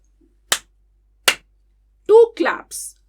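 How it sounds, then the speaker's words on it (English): Two crisp, separate hand claps ring out in a quiet room, keeping time with spoken syllables, followed by a person speaking. "तो चलो मेरे साथ क्लैप करो"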